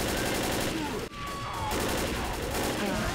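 Dense, continuous gunfire in the co-op zombie shooter Left 4 Dead rattles on with barely a pause, loud and close, with only a brief dip about a second in before the shooting resumes.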